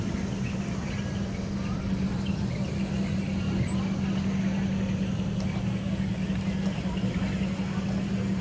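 A 1931 Victoria Custom car with a 350 Chevy engine and automatic transmission rolls along in the 2013 Chase County Fair parade, giving a steady, close engine drone with a low hum throughout while a voice talks over it.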